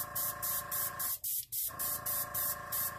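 An airbrush sprays alcohol ink in short, regular hissing spurts, with a brief pause in the middle, close and steady.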